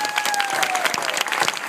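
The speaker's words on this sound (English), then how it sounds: "applause for Keith Hudson" Audience applause at a church young adult gathering, a dense, loud burst of many hands clapping close by with a faint tone sustained underneath, filling the whole short stretch.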